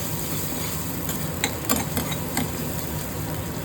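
Onion sautés in oil left over from frying paneer, a steady close sizzle with a few soft stirring scrapes and taps of a ladle against the pan.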